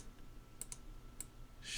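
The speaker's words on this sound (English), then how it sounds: "I'm just clicking to maneuver this" Quiet computer mouse clicks during 3D modelling work, with a few soft, separate clicks in near silence and a brief louder noise at the end.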